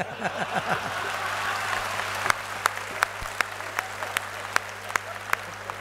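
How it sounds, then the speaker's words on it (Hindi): Audience at a Nitin Gadkari speech to a national medical cell convention: scattered applause, thick at first, then thinning to a handful of sharp, separate claps over a low steady hum. "आप जिसके लिए जो तालियां बजा रहे हैं"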